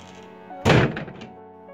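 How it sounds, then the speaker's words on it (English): A single heavy thunk like a door slamming shut lands abruptly over a steady droning background, close and loud, then fades quickly, heard late at night around 3 a.m. while playing a horror game. "the door just slammed"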